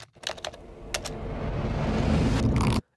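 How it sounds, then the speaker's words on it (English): Keyboard typing used as a sound effect in a commercial edit: a few sharp clicks, then a rapid, building clatter of keys that swells and stops abruptly. "Like the screen coming in and this whoosh and keyboard typing."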